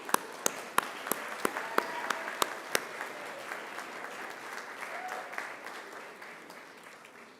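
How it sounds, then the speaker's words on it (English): Graduates applaud at a university graduation ceremony, a broad roar of clapping from a large crowd in a hall, with several loud, sharp close claps standing out at the start before the sound settles into a steady wash. "join me in giving them a round of applause"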